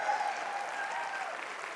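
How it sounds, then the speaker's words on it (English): Audience applause at a nurses' union biennial convention rolls on steadily throughout, a dense wash of clapping from a large crowd with no voices on top. "Can we get some applause for Ange?"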